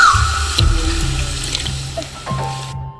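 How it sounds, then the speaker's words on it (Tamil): Water poured in a small amount into a pot of chicken biryani, a short splashing trickle with faint kitchen clatter, close and moderately loud. "தண்ணி கொஞ்சோண்டு ஊற்றிப்போம்"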